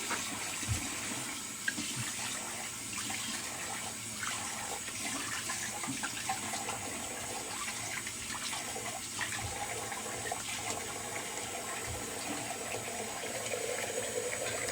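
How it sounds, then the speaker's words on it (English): Cold water runs from a bathroom tap into a sink after a wet shave, a steady close splashing gush that keeps going without a break. "Get some cold water"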